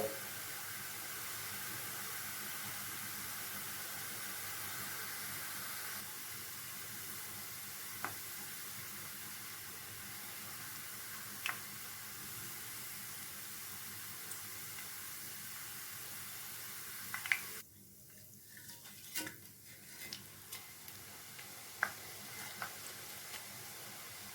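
Omapodi dough fries in hot oil over a medium flame, giving off a continuous, fairly quiet sizzle. Partway through the sound thins and shifts, with a few faint pops and clicks scattered over it.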